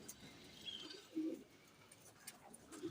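Saharanpuri pigeons kept in a loft with their young make soft, low coos in a few short bursts against a faint, rustling background. The calls are quiet and come from nearby.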